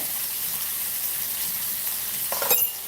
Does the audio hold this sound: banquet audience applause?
no